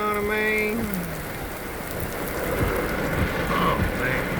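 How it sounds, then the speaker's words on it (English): Heavy pouring rain in a thunderstorm at sunset, a dense steady hiss of drops striking surfaces, loud and close, with a brief electronic tone at the start and faint squeaky sounds later. "It is pouring rain."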